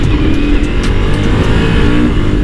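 A Ducati Multistrada V4S motorcycle engine roars loud and close in a steady, throaty drone under acceleration, with no talk over it.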